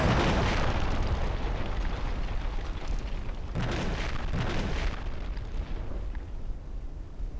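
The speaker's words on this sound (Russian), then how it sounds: "Что-то где-то еще взрывается." Heavy, continuous blasting rumble with a few deeper booms rising out of it, loud and dense throughout, like Minecraft explosions going off.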